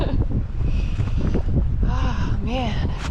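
Strong, cold wind buffets the microphone on the Appalachian Trail, making a loud, continuous low roar and rumble, while a voice briefly sounds over it toward the end.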